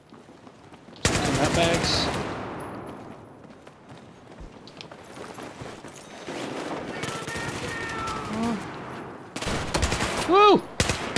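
Bursts of automatic gunfire from the Battlefield 4 video game rattle loudly in several rapid volleys with quieter gaps between, while a voice talks briefly over the action.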